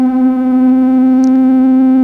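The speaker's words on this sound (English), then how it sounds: "So it creates a really consistent kind of drone sort of a noise." A loud, steady electronic drone from a no-input mixer holds one sustained pitch with rich overtones, unwavering throughout, with a brief faint chirp midway.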